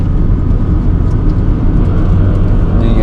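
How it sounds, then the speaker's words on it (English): A car with a failing transmission bearing drives with a loud, steady droning rumble, its low whine constant and close throughout. "You can hear that awful bearing sound."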